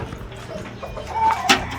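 A Vietnamese imported fighting rooster clucks briefly, close by, amid a noisy outdoor background with a short sharp call near the end.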